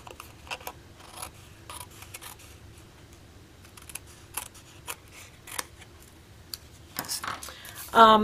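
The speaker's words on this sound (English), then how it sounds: "too wide here, and we're cutting that away" Scissors snipping away excess paper from a mini treat bag, a series of short, close crisp cuts and rustles with a louder paper crunch at the end.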